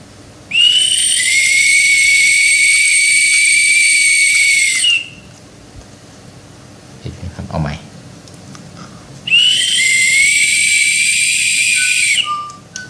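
Two long, loud, steady whistle blasts, each several seconds long, are blown to cue a Joypalette toy bird, with a brief clatter and faint voice in the quiet gap between them.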